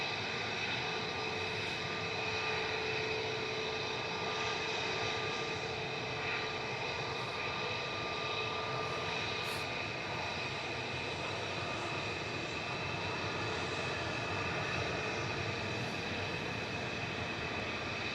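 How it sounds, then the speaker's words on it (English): A Jet2 Airbus A330-200, operated by Air Tanker, departs Manchester Airport, its jet engines producing a steady, loud roar that holds without a break, with no voices over it. "That's GVYGL departing there for Jet 2, operated by Air Tanker, flight 875 to Faro on the south coast of Portugal. It's an A330-200."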